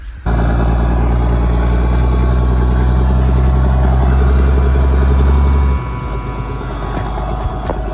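Old army truck engine running at a loud, steady idle close by, its rumble dropping slightly in level near the end; no talk.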